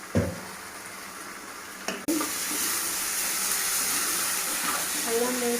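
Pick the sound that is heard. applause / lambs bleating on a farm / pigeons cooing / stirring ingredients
stirring ingredients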